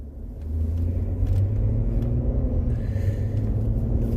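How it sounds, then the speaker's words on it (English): A 2013–2019 Ford Flex driven lightly through the gears after a transmission drain and fill, giving a steady low engine and road rumble from inside the cabin that rises slightly after the first half second. "Alright, so here we are driving it, going through the gears lightly at first"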